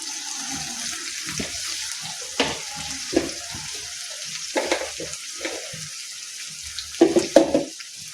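Tomatoes hit spiced oil that has been cooked until it separates from the masala, for a spicy sem aloo sabzi, giving a steady hiss and sizzle with bursts of stirring and scraping in the pan.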